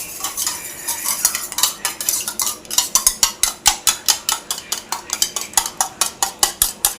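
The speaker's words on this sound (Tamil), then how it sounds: "வாங்க இப்ப நம்ம கலக்கலாம்" A broken egg is beaten in a bowl with quick, rhythmic clinks of a utensil against the side, which become faster and more regular as the whisking goes on and stay close and fairly loud.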